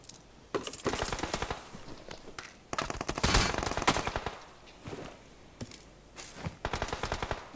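Rapid automatic gunfire from a shooting video game, several sharp bursts of fast repeated shots separated by short gaps, loud and close, with no talking over them.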